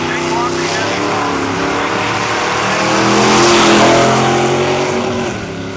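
A nostalgia drag car with a 540 engine and automatic transmission running the quarter mile at Cayuga Dragway in Ontario, a loud sustained engine roar that swells as it passes and then fades, with an announcer talking over it.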